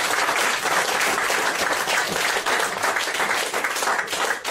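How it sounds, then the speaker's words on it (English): A live audience applauds a volunteer at a magic show with steady, dense clapping that stays loud and close throughout, with no speech over it. "give me a round of applause, thumbs up"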